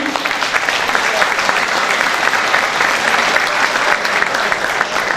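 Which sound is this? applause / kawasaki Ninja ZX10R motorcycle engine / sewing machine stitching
applause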